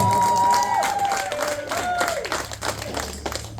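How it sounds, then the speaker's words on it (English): Applause from an audience at a fiftieth wedding anniversary celebration, with a steady wash of clapping and some crowd noise, music or a held tone fading early, at a fairly loud level. "Let us give them a big round of applause."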